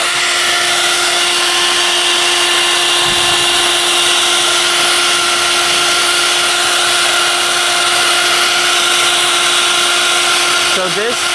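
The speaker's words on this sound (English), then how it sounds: "So I've got the blow dryer here." A hair blow dryer set on high heat, used to soften toy plastic, blows with a loud, steady whirring drone close by throughout, with a short handling noise near the end.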